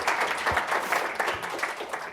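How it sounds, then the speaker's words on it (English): Audience applause after a talk at a 2023 dairy symposium on farm business and community, a steady clapping crowd with distinct hand claps standing out, heard alone. "Let's give Kevin a round of applause for that."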